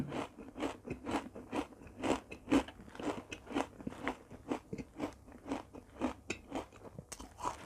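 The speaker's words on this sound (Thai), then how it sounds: "แล้วก็จะเป็นพริกทอดกรอบนะคะ มาชิมกันค่ะ" Crispy fried chili with roasted rice bitten and chewed up close, producing a steady run of sharp, brittle crunches repeating about twice a second.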